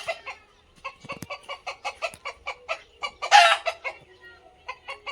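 A chicken perched up in a tree clucks in a quick, steady run of sharp, close notes, with one louder, rougher squawk midway and no talking.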